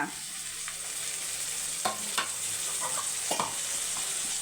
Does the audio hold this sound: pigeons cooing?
no